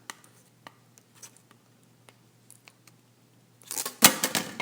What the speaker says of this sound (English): I nipped the corners with my scissors